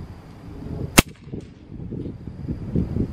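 A single sharp crack from a CZ 457 .22LR rifle firing a quiet CB22 Long round, close by, followed by faint background noise and a few soft sounds.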